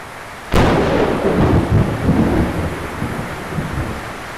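Sudden loud crack of thunder followed by a long rolling rumble, with steady heavy rain drumming on a metal roof over a horse training area, no voices.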